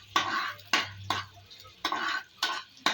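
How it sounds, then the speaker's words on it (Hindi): Garlic, ginger and green chili paste frying in ghee in a warm pan, stirred with about six distinct scraping spatula strokes over a faint, low sizzle. "साथ ही ये ना फ्राई हो रहा है, क्योंकि हमारा पैन थोड़ा सा गर्म था।"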